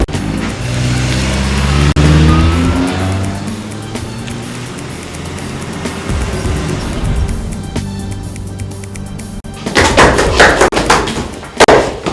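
A car drives off during a tense scene in a Nigerian drama, its engine loud and close as it revs and pulls away, followed by a few sharp knocks and clatters.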